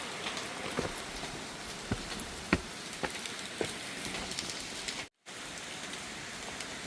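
Rain falls on a gloomy morning in Laos, a steady close patter on surfaces with occasional louder drops, broken by a brief moment of silence near the end.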